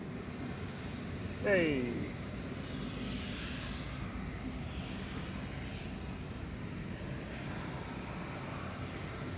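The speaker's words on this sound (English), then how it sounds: "Taking this beautiful A350-900 back to Houston with Flight 52 for Singapore Airlines 9V SMN." A Singapore Airlines Airbus A350-900 departs Manchester Airport, its engines a moderate, steady rumble at a distance, with a short call from a person near the start.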